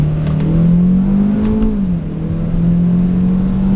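A 2012 Ford Focus SEL hatchback under full throttle from inside the cabin, a loud steady engine drone that climbs in pitch, dips briefly at a shift, then settles again.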